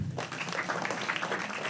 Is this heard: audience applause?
yes